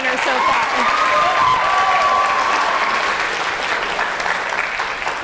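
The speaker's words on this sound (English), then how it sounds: "Let's have another round of applause for our demo reel winners and all of our winners so far." An audience applauds demo reel winners and other award winners at the LDTV Awards, a loud, dense, sustained round of clapping from a large crowd with a faint tone running through it.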